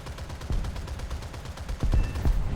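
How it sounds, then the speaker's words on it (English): Rapid machine gun fire from a vehicle in the video game War Thunder rattles in steady bursts, with heavier, louder volleys near the end; no talk over it. "let's just go for the machine guns then."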